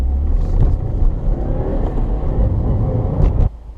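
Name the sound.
2017 Subaru WRX accelerating away on road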